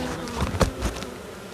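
Honeybees buzz faintly around an open hive during an inspection, a brief low hum with a few slightly louder passes of nearby bees.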